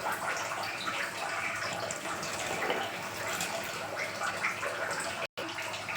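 Water pours steadily into a cooking pot in a home kitchen while a banana-stem kootu is being prepared. The splashing rush is continuous and close, with a brief cut near the end.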